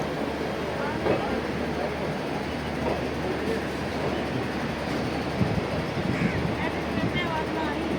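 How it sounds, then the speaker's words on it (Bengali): The 13185 Gangasagar Express pulls out of Sealdah station with a steady, continuous rolling rumble and rattle of rail cars, faint clatter rising over it at moments. "ফাইনালি এখন শিয়ালদা থেকে আমাদের ট্রেন ছাড়লো।"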